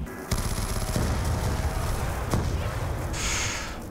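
Sustained, heavy automatic gunfire in Black Ops 2 Zombies on the Town map, loud and continuous for the whole stretch with dense rapid reports.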